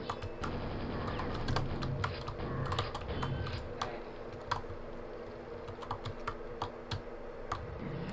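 Fingers type on a rubber dome computer keyboard, soft rapid clicks in a steady, uneven patter, quiet and close over a low background hum with no talking.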